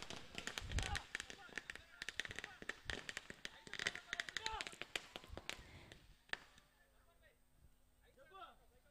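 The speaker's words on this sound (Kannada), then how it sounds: "ಅಲ್ಲಲ್ಲಿ ಪಟಾಕಿ ಹೊಡಿತಿರೋದು ಬೇರೆ ಯಾರು ಅಲ್ಲ, ನಮ್ಮ ಅಮೀದ್ ಭಾಯ್" Firecrackers bursting at a Kannada Rajyotsava cricket cup closing ceremony, a rapid string of sharp cracks and pops crowding the first six seconds, then falling away to quieter crowd voices and murmur.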